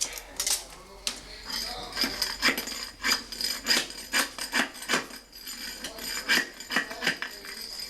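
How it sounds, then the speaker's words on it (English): A floor scraper shears nails and aluminum drives off a floor, giving a string of sharp, rapid cracks and scraping rasps in an uneven rhythm. The sound is fairly quiet and close, and there is occasional talk. "Cuts the aluminum drives right off the floor."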